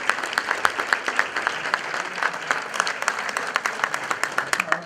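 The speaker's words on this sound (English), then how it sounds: "Please, another round of applause for fabulous." A crowd at a Hellenic American Chamber of Commerce event claps continuously, with individual hand claps standing out in a sustained, moderately loud round of applause.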